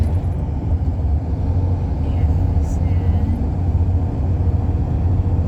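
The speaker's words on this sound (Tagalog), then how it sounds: "Ito ang lakas ng takbo ng sasakyan" A car driving fast on a road near Ipoh, Penang, a loud steady engine and road rumble from inside the vehicle, with a brief spoken remark.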